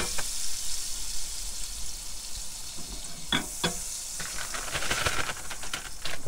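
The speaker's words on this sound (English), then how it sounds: "Get this butter nice and hot." Butter sizzles in a hot pan, a steady bright hiss running throughout with a few sharp pops and crackles near the middle and toward the end, close and fairly loud, no voices.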